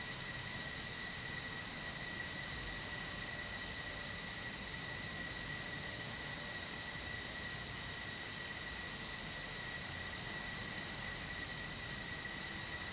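Steady roar of a jet airplane engine running with afterburner in a Cold War flight game, a broad constant rush with a high whine held evenly and close, alone with no voices.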